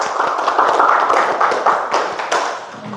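Clapping from an audience in an Islamic marriage lesson, a short burst of quick hand claps, fairly close and moderately loud, with no talk over it.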